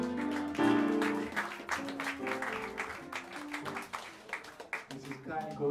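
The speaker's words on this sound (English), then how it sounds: "give a warm round of applause for the great Steve Little on the drums" Audience applause at Smalls Jazz Club greets the drummer of a live jazz quintet, scattered clapping running under an announcer's amplified voice speaking throughout.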